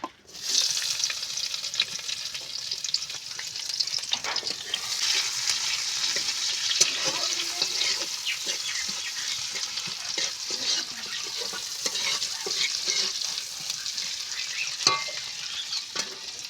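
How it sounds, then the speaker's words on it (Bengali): Dense, continuous sizzling of onions frying in oil left from frying fish, loud and close, with occasional stirring clatter and a brief pause at the very start. "মাছ ভাজার তেলে আমি পেঁয়াজগুলো ফেলে দেবো।"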